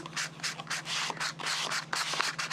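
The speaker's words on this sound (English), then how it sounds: "So if you want to grab your sander" An electric sander works over the embossed surface of an impression die, a close, loud buzzing rasp in repeated short bursts with brief pauses between passes.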